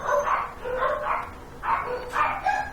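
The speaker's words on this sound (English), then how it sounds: "We're gonna pause for a bit and wait for the dogs to calm down." Dogs barking in the war survival game This War of Mine, a string of several muffled barks and yips in an uneven rhythm, moderately loud and slightly distant over a faint background.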